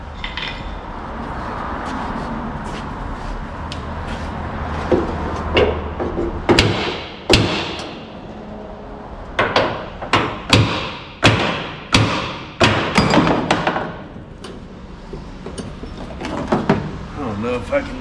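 A hammer thumps against a car's driver door panel while working on nuts behind its top edge: a quiet stretch of shuffling, then a series of sharp, heavy knocks with metallic clanks, some in quick pairs, close and fairly loud.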